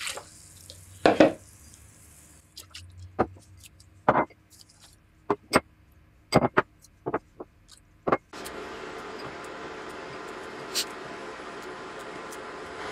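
A knife cuts chillies on a cutting board for spicy pickled beets, giving irregular sharp taps spaced a second or so apart, close by. A steady rushing noise then takes over.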